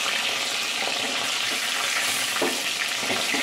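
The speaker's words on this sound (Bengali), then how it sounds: "মাছগুলো হালকা করে ভেজে নেব" Hilsa fish pieces fry in hot oil in a pan, a loud continuous close sizzle with a few soft stirring or turning sounds and no talking.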